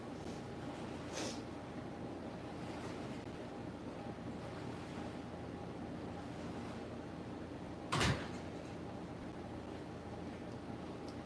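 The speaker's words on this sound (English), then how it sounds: "I'm going to shut the door." A door is shut indoors in one sharp, brief thud, heard once against a steady, hissy room background.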